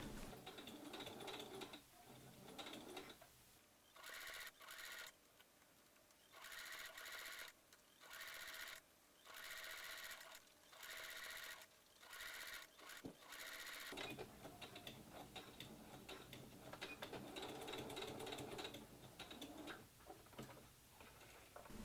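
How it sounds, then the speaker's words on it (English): A sewing machine stitches Star Trek TNG costume yokes together, running in repeated short bursts of steady mechanical whirring separated by brief pauses, then continuing longer toward the end, close and moderately loud with no talk. "sew the yokes together, stitching exactly over the previous stitch line"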